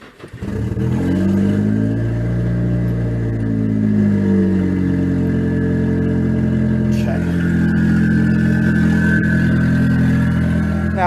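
A Nissan SR20DET engine idling high after a throttle body cleaning, running loudly and steadily up close, its pitch wavering slightly as the idle rises and settles, with a rough mechanical hum throughout.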